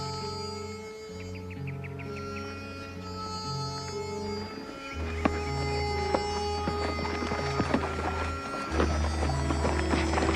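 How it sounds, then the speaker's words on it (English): Steady hoofbeats clip-clop along with a low rumble and a faint bird or two in the background, moderately close. "Come on, horse."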